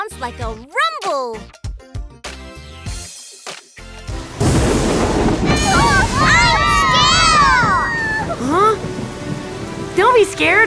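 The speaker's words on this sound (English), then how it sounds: "Yes, thunder sounds like a rumble." A cartoon thunderstorm breaks in with a loud rumbling swell over steady rain hiss, while animated characters talk and exclaim before and over the storm.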